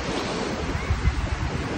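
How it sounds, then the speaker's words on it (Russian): Sea waves breaking on a beach at Kuchugury on the Azov Sea in the evening, a steady close wash of surf with low rumbling swells and wind noise across the microphone. "Но волна на Азовском море очень сильно отличается от волны на Черном."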